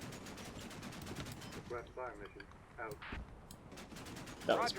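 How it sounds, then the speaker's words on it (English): Rapid bursts of gunfire in a military video game, quiet crackling shots in quick runs at the start and scattered single shots later, with a voice talking over parts of it. "that's me shooting, isn't it?"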